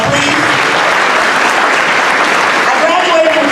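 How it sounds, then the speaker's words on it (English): Loud, dense applause from a university graduation audience honoring a faculty member, continuous throughout, with voices mixed in beneath the clapping. "Give her a round of applause, please."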